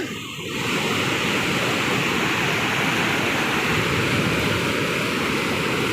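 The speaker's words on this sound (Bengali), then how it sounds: "পানির শব্দে আপনারা আমার কথা বুঝতে পারবেন কিনা আমি জানি না" A powerful, continuous roar of rushing water, loud and close, a dense unbroken wash of noise that holds steady from start to finish.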